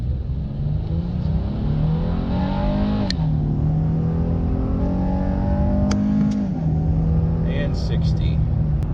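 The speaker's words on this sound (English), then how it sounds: "turning onto the highway here, we'll go ahead and do a 0 to 60 test." A 2019 Honda Ridgeline AWD pickup's engine revs hard during a 0 to 60 run onto a highway, its pitch climbing through gear shifts, with a voice speaking over the steady road noise.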